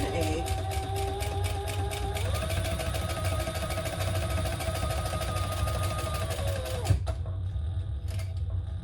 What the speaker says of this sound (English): I'm back stitching